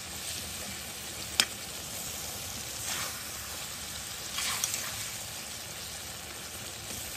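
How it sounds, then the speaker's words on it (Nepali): Ground garlic, blended in a mixer, sizzles and fries steadily in a pan while a buff meat pickle is being made; a continuous close crackle with a few sharper pops and stirring scrapes, no talk. "मैले मिक्सरमा पिलेको लसुन उसिन्दैछ मेरो लसुन"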